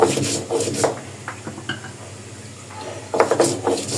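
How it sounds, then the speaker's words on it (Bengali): Dried chilli and garlic ground on a flat stone slab: repeated close scraping and rubbing strokes in bursts, with a quieter stretch in the middle and firmer grinding toward the end. "শুকনা মরিচ আর রসুন পাটায় বেটে নেব।"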